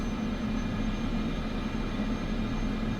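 A Cessna engine drones steadily at takeoff in Microsoft Flight Simulator 2024, a constant loud propeller hum and rumble with no change over the short stretch.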